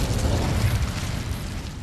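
An Incendio fire spell cast in Hogwarts Legacy, a dense roaring, whooshing burst of flame that stays loud and steady for about two seconds, with no talking.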